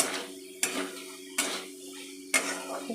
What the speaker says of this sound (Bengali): ভালো করে নাড়িয়ে চাড়িয়ে নিচ্ছি এই মশলার সাথে